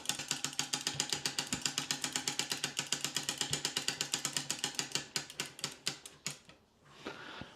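Winding an Ingraham advertising calendar clock gives a rapid, even series of crisp ratchet clicks, close and fairly quiet, slowing into a few spaced clicks before it stops.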